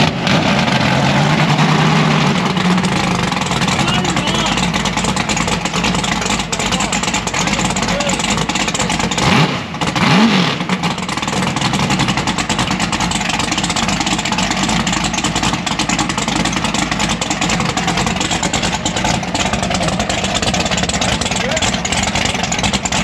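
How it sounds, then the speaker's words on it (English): Engine of a mud bog racer at a dune runners mud bog event, running steadily loud throughout and briefly dipping near the middle as the throttle is worked, with people talking in the background. "Give her a little throttle."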